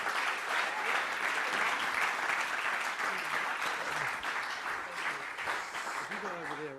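Audience applause welcoming a speaker at a regional conference in North Rhine-Westphalia, loud sustained clapping that slowly fades, with a voice starting to talk over the tail end.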